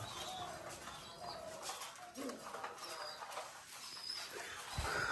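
A female Machranga fancy pigeon from Rajshahi flaps its wings in brief bursts while coming down from a tin roof, against a steady noisy background, with a soft coo and faint outdoor sounds; no one speaks.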